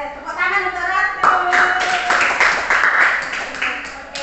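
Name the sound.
class clapping for a student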